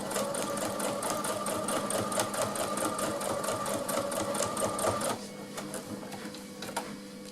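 A sewing machine running a universal needle stitches fabric for washable baby wipes, a fast steady mechanical whir with rapid needle clatter, close and loud, slowing and easing off near the end.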